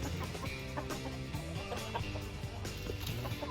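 Chickens clucking as they eat scattered feed, continuous overlapping clucks and pecking close by with faint bird calls.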